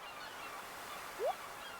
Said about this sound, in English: Why is the seagull so loud, Willie?